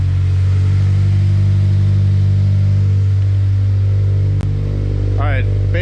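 Subaru BRZ/GT86 with an Invidia N1 catback exhaust idling with a steady low drone, followed near the end by a short blip of the throttle that rises and falls; a voice can be heard faintly over the engine.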